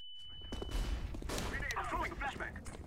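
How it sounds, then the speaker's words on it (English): A flashbang grenade goes off in the shooter game CS:GO, a sharp blast with a ringing whine and rumbling aftermath, loud and close, with game gunfire and voices mixed around it. "Flashbang out."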